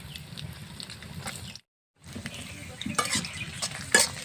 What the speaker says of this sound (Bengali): এই দেখুন লঙ্কা ভেজে নিচ্ছি